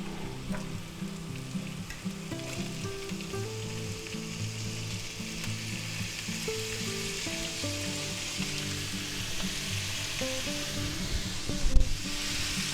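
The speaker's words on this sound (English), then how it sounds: "we're going to add our vegetables" Vegetables stir-fry over high heat in oil with garlic for a Vienna sausage stir fry, a steady close sizzling hiss with occasional stirring scrapes and one brief louder clatter near the end.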